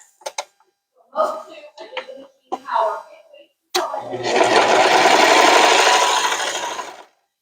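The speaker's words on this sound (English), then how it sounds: "Okay, but now we're going to stitch this edge." A serger sewing machine stitches along the fabric edge of a zippered pouch, starting as one loud, steady, rasping whir that runs for about three seconds after a stretch of talking.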